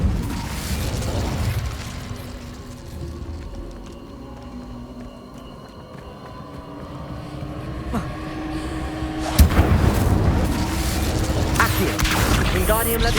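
A fire spell cast in the video game Hogwarts Legacy: a steady, dense rumble of game sound that swells into a sharp burst and a louder, crackling roar that carries on to the end.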